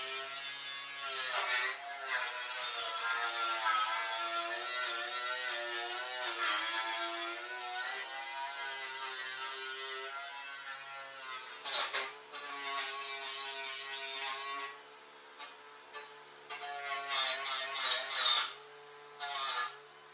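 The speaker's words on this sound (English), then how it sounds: "I'm going over the little surface rust now with the wire wheel" A wire wheel scrubs surface rust off the fender of a 1972 VW Super Beetle, giving a steady whirring, buzzing grind that wavers in pitch, then turns choppy in shorter bursts during the second half, moderately quiet.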